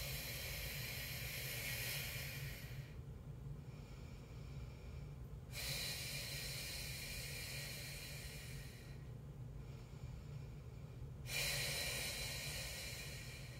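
Slow, steady breaths during a solo Nordic hold exercise: long breathy inhales and exhales repeat in a calm rhythm, close and fairly loud, with no talking.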